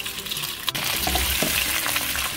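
Prawns hitting golden garlic and ginger in hot olive oil for Prawn 65, a loud constant sizzle with a sharp clack as they go in, then tossing rustles, nearby and alone.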